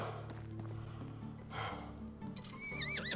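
Horse in the video game Medieval Dynasty neighing and snorting, with hoof clip-clops, a shrill whinny rising near the end, close and clear.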